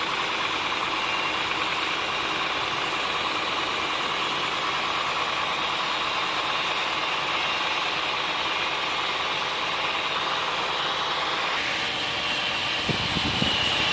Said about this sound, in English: So engine running